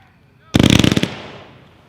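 A 13-shot instant slice firework cake at a fireworks product demo fires a rapid, loud burst of about a dozen close cracks in half a second, followed by a fading echo.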